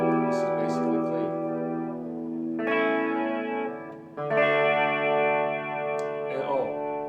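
A Big Jon Grote LP-style electric guitar plays clean through an amp with a 68 mod, reverb and tremolo, ringing out sustained chords and notes that bloom and overlap, with a brief pick-attack change between them.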